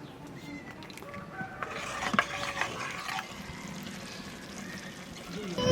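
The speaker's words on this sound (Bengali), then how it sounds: "কাজু বাদাম দেওয়ার পরে মশলাটা একটু কষিয়ে নিয়েছি" Spice masala with cashew paste stir-fried in a pan while making chicken curry in a pressure cooker, giving soft intermittent scraping and sizzle under low kitchen clatter throughout.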